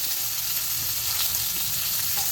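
Fish and potatoes fry in a pan with salt and turmeric, giving a dense, even sizzle close by without a break.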